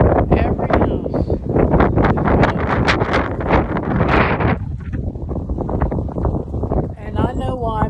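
Strong wind blows outdoors in Texas, buffeting the microphone with a loud, continuous, gusty roar throughout.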